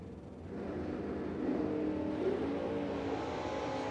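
A third-generation Camaro from Level Performance in a drag race, its engine roar building from a distance and then holding loud and steady.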